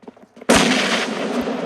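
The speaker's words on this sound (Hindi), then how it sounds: "आपको बस अपना नेट बहुत ही प्यार से कुक करके बस फेंकना है," A grenade explodes in PUBG Mobile, a sudden loud blast after faint small sounds, followed by a long, rumbling roar that slowly fades.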